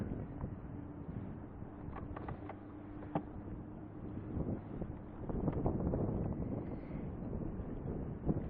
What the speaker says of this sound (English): I don't understand why the wind is coming out of the north.